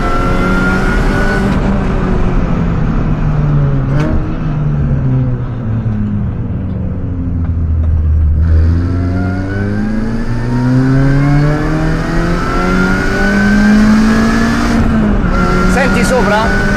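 Mini Cooper S R53 with a limited-slip differential driving hard through curves, its engine rising and falling in pitch as it revs and shifts, loud and close from inside, with a voice speaking over it at times.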